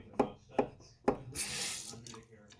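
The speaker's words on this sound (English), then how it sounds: "I turn the water now." A few sharp clicks and knocks, then a kitchen tap in an old house gushes briefly with a close hiss of running water before fading.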